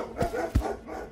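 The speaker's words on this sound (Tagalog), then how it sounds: "sumugod ang aso at kumahol sa panig ng malaking puno" A dog barks twice in quick succession, close and moderately loud, with short sharp yips over a quiet background.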